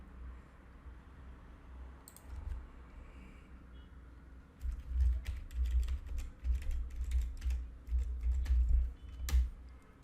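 A computer keyboard is typed on steadily to log in to Gmail on a PC, with bursts of close clicking keystrokes that grow busier halfway through. No voice is heard.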